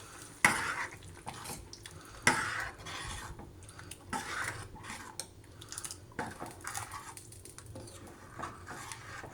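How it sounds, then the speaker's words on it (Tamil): Quiet scraping and clinking of a spoon stirring a Tamil lentil kulambu with fenugreek tempering in a pot, several strokes with a couple of sharper knocks against the metal. "அப்படியே கொஞ்சம் கலக்கி விடணும்."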